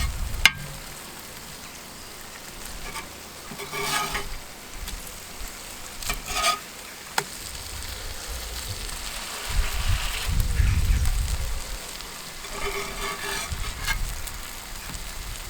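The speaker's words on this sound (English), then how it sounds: "bacon's crisping up nicely." Bacon sizzles and crackles steadily as it fries on a kamado grill for a full breakfast fry-up, a close, continuous hiss with occasional louder bursts and no talking.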